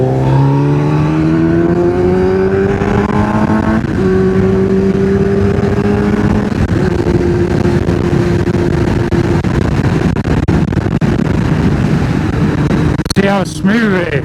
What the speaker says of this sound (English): Well, I love my exhaust.